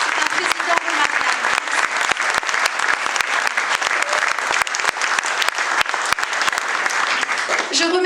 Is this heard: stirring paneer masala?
no